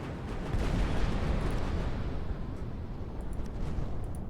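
Thermal missiles launching in the Final Theory battleship game: a sustained, loud, rumbling roar of explosive bursts that swells and holds steady, with faint sharper clicks near the end.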